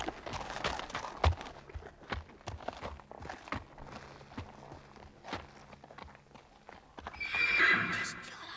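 Horses clop along on hooves in a run of uneven, fairly close steps, ending with a loud, drawn-out whinny near the end.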